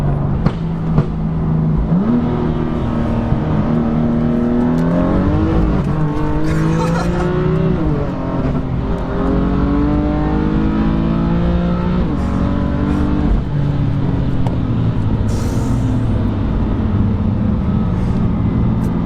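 A BMW M3 F80 with an Akrapovič exhaust accelerates hard, its loud engine rising through the gears with rasping revs and shifts, close and continuous, while voices are faintly audible underneath.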